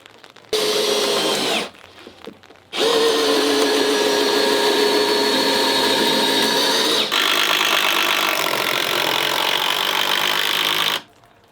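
Power drill boring a series of holes during a curved-glass build, running loud and steady in two long bursts separated by a short pause, with no talking.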